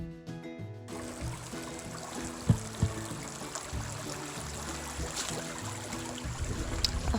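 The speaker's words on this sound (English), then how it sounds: "Hartnett Falls, which is the tallest of all the waterfalls." Hartnett Falls, the tallest waterfall on the Overland Track, pours steadily after recent rainfall, a continuous broadband rush of water heard from nearby, with faint music briefly at the start.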